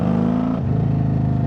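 A Harley-Davidson motorcycle engine pulling hard in third gear, a steady, loud, close rumbling drone that shifts down in pitch partway through before climbing again.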